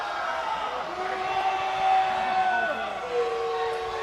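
A crowd at an FD Alumni finals match disagreeing with a referee's foul call, a rising murmur of voices and sustained jeering or whistling under the hall's reverberant noise.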